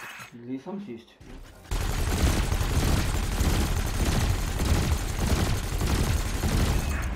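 Spaceship cannons in Elite Dangerous fire at canisters in a training exercise. A brief voice comes first, then a loud, continuous barrage of rapid gunfire and booms.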